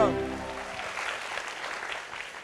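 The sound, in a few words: audience applause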